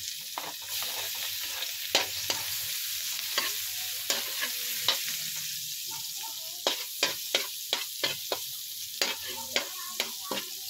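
Garlic sizzles in hot oil in a pan with mushrooms and seafood, a steady close hiss broken by a run of sharp utensil scrapes and taps as the mixture is stirred, with no talking.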